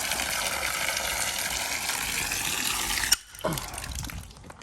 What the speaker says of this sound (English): Frost-proof hydrant to water your animals.